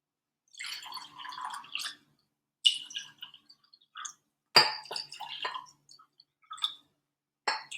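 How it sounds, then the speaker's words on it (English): Water is poured into lab beakers in several separate short bursts of splashing and trickling, with small glassy clinks between pours and silent gaps. "I'm going to add water into every beaker."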